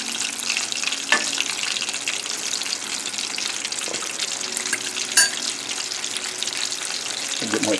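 Panko-breaded sea scallops deep frying in oil held at 350 degrees, a steady bright sizzle and bubbling throughout with a couple of sharp clinks.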